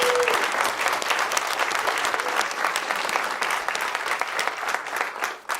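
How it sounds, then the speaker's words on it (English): An audience at a speaking event gives sustained applause, dense crackling claps from many hands, loud and steady for several seconds before trailing off at the end. "Can we have a giant, giant round of applause for just everyone who has helped make this happen"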